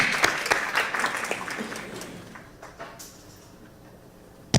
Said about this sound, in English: how about a round of applause for our wonderful cadets from Arsenal Technical High School